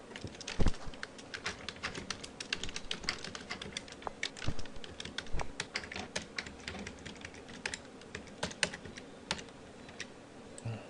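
Rapid, uneven clatter of keys on a computer keyboard as product codes and item details are entered into a shop inventory program, steady and fairly close with no talk.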